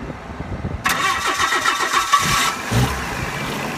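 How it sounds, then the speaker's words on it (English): A car engine, started with a portable jump starter, cranks and catches, roaring to life close by, then settles into a rough idle. "Start your car."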